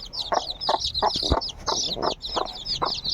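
A hen clucks in short, regular low bursts while her newly hatched chicks keep up a busy, high-pitched peeping close by, the two layers overlapping throughout with no talk.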